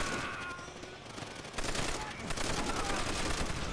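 Gunfire in Call of Duty: World at War on Peleliu island, a rapid burst of shots, a brief lull, then sustained continuous firing, loud and close.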